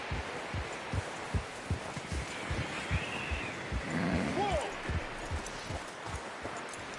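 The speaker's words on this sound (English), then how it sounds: "You should really tether that horse, Arthur." Horse hooves clip-clop at a steady walking rhythm in Red Dead Redemption 2, fairly faint and close, with soft background ambience and a brief animal call partway through.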